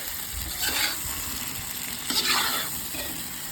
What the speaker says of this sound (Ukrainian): Смажимо ще хвилин 5-10.